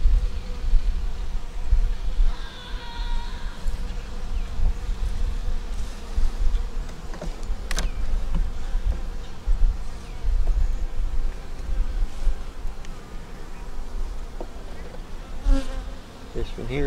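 Honey bees buzz steadily in an open hive during inspection, with comb festooning on the bottom bars; a dense, continuous close-up hum fills the whole stretch, with occasional individual bees passing near.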